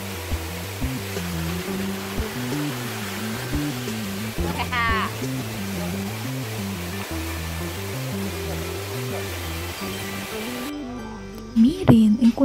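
Hola Vida waterfall in Pastaza, Ecuador, with a natural pool at its base, a steady broadband rush of falling water throughout, under a droning hum and a brief voice near the end.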